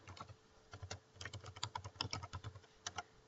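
Rapid typing on a computer keyboard while entering sign-up details, a dense, steady run of close key clicks with no talk.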